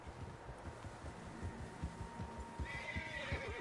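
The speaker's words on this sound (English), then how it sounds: "Horses, quite a few of them." Several horses whinny and neigh in the Western video game Red Dead Redemption 2, a prominent neigh rising toward the end over soft hoof clip-clops and light wind.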